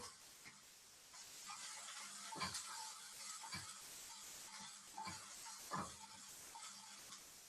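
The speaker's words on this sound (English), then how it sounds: "I can hear that the bok choy and the shallots and the pineapple sizzling." Soft, continuous sizzling of bok choy, shallots and pineapple frying in a pan with occasional scrapes and stirs, quiet and close, no one talking.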